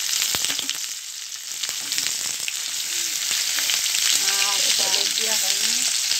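Boiled potatoes and green chillies frying in ghee give a steady, close sizzle throughout, with a faint voice briefly in the background.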